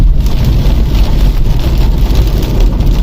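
Hailstones drum steadily on a car driving through Indian village countryside, a dense loud patter over the low road and engine rumble, with no talk.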